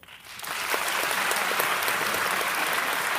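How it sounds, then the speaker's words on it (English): A large theater audience at a film festival screening breaks into applause, building quickly to a dense, sustained clapping that fills the room and carries on steadily to the end. "will the people who have not seen this movie please applaud?"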